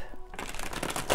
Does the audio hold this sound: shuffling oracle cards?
yes